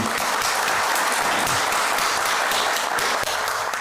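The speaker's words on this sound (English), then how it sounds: "let's have a round of applause for him" An audience at a corporate India event gives a speaker a round of applause, a dense, continuous wash of clapping from many hands, loud and sustained throughout.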